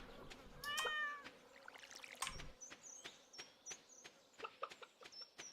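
A cat meows when petted in the Stardew Valley video game, giving one short, clear game meow near the start, followed by scattered light clicks and chirpy in-game sound effects, with no talking.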